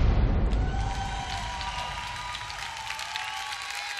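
Applause from the crowd at a drag gala in Corralejo, a broad, continuous wash of clapping that stays fairly even throughout, with faint whistles or cheers threaded through it.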